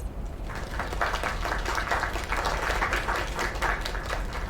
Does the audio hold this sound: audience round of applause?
yes